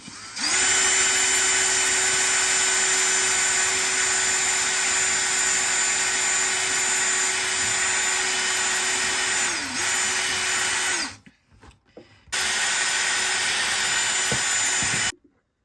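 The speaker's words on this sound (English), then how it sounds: "I'm going to use this bit to drill a hole first" A power drill whines steadily and loudly for about ten seconds while drilling a hole in a thick plastic bucket, cuts out briefly, then runs again at a constant pitch before stopping.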